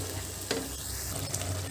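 Tomato puree being stirred into a drumstick masala curry in a pan, with a steady low sizzle and a couple of soft scraping strokes over a short stretch.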